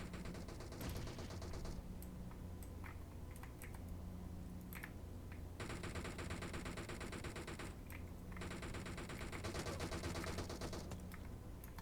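Dense, rapid gunfire from the PUBG Mobile shooter game rattles on continuously in overlapping bursts, with no voices heard.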